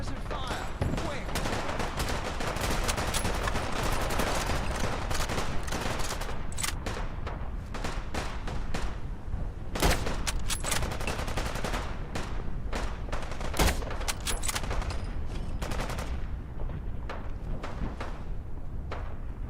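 Sustained gunfire in the video game Fallout London, a relentless stream of loud overlapping shots and automatic bursts laying down suppressing fire, with occasional sharper cracks and little talk.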